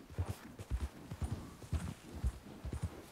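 Horse hooves clip-clop at a steady walking pace in Red Dead Redemption 2, a close, even rhythm of soft thuds with no talk over them.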